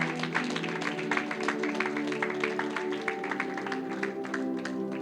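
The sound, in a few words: church congregation applause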